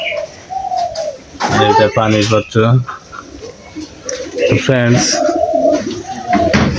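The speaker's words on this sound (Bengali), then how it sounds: "আর এই যে কবুতর শুধু উড়াল পাড়ছে।" Pigeons at their cages give repeated throaty coos, near and fairly loud, alternating with someone talking in between the calls.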